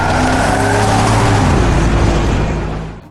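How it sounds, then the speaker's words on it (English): A 2025 Porsche 911 Carrera S Coupe driving hard, its engine roaring loud and steady from inside the car before easing off at the end. "I'm driving the Coupe version of the 911 Carrera S."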